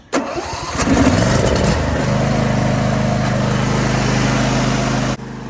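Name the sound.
John Deere D160 lawn tractor engine starting and running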